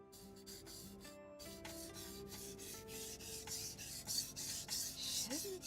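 A blade scrapes back and forth across a whetstone in close, rhythmic strokes that gradually grow louder and more rasping, alone and without speech.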